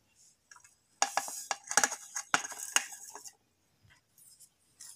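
A spoon clinks and scrapes briskly in a bowl, stirring rava appe batter with soda, salt, green chilli and finely chopped onion, in a short close burst of rapid metallic taps that fades to near silence.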